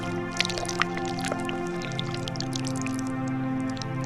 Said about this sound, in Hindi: उस कुएं से पानी निकालता है और पी लेता है